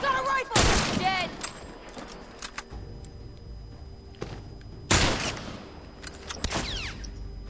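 Rifle gunfire in The Last of Us Factions multiplayer: two sharp loud shots several seconds apart, each with a ringing tail, plus a few fainter cracks, with voices talking in between.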